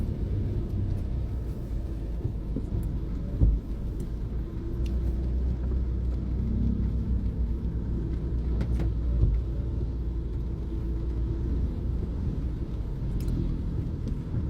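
Steady low rumble of road traffic on a rainy day, cars passing continuously with a constant wash of engine and tyre noise, a couple of sharper knocks standing out, and no talking.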